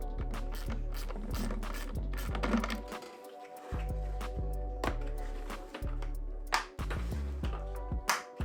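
An Allen key turns the supplied hardware to fasten a shop dust separator, making close, repeated metallic clicks and ratcheting knocks in an uneven rhythm with brief pauses.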